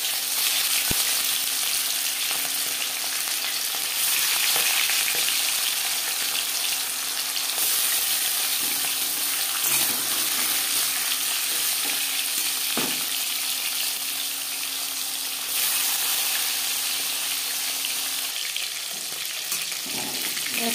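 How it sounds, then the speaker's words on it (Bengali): Marinated tuna fish frying in four spoons of hot refined oil gives a steady, loud, close sizzle and crackle that holds almost unbroken for about twenty seconds, with a few brief clinks partway through. "এবার দিয়ে দেব ম্যারিনেট করে রাখা মাছ"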